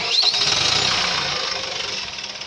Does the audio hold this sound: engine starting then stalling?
yes